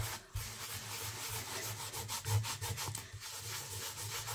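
Rubbing ink over a heat-embossed card with papercraft tools: a continuous close, dry scrubbing sound in quick back-and-forth strokes, steady and fairly loud throughout with no talking.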